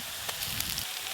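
Chopped onions sizzling in hot oil in a pan, a steady bright hiss with faint crackles throughout.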